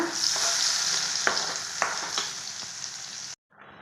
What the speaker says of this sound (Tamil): கொஞ்சமாக எண்ணெய் ஊற்றி கடுகு சேர்த்துக்கோங்க நல்லா பொரிஞ்சிச்சிங்க இதை நல்லா வெண்ணெயிலே வதக்கலாங்க